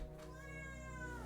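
A house cat named Rena meows at a door, wanting to be let out again right after being let in; one long, drawn-out, close meow with wavering pitch, over a low steady hum.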